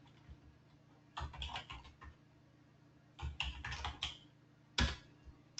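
Keys clatter on a computer keyboard in three quick bursts of typing separated by pauses, close and fairly quiet, as a registered username is changed in licensing software.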